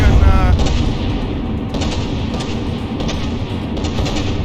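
Battleship guns fire in the video game From the Depths during a tournament battle, with booming, rumbling salvos under a dense, continuous din of distant gunfire.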